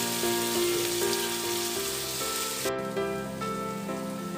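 Potato and eggplant cook in a pan while being stirred, giving a steady, soft sizzle with a faint background tone running beneath it.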